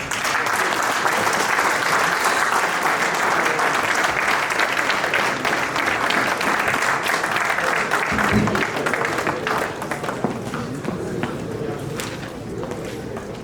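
Sustained, loud audience applause at a Liberian convention for guest speaker Councillor Tiawon Gongloe, a dense continuous wash of clapping that fades slightly toward the end.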